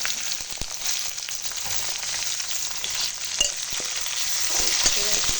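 Tomato frying with onion, green chilli, garlic and ginger paste in a pan gives a steady, moderately loud sizzle with light stirring clicks throughout, no voices.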